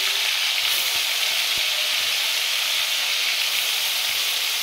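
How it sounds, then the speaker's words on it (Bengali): Giant freshwater prawns fry in hot oil, giving a loud, continuous, even sizzle and hiss up close with no talk over it. "তো এবার মাছগুলো এক একটা করে ছেড়ে দেবো, দিয়ে ভেজে নেবো।"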